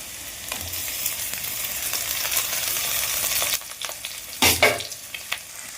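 Onion, garlic and ginger paste sizzle steadily in a pan with butter, then tomatoes drop in with a sudden loud hiss and clatter as the frying flares up, close and with no talking.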